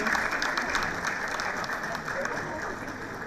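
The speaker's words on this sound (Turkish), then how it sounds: "Alkışlarınızla." An audience at a teachers' singing contest final in Van claps steadily, with dense, even applause at moderate volume that continues throughout and fades slightly toward the end.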